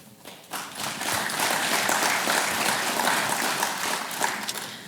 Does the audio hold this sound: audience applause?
yes